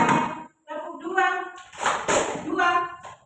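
A primary-school class claps on their teacher's call, with a quick pair of sharp claps cutting through the speaking voices of the teacher and the children.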